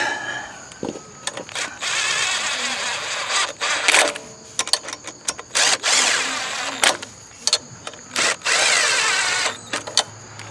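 A power tool runs in the head gasket bolts on a Briggs Intek engine. There are several short, loud bursts of whirring drill noise, each stopping and starting again, separated by brief pauses with clicks and handling sounds.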